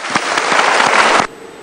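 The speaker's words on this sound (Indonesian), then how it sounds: "Kita berikan tepuk tangan dulu." Audience applause at a motivational seminar: a dense, loud wash of many hands clapping together, steady for about a second before cutting off abruptly.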